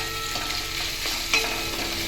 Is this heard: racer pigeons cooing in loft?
no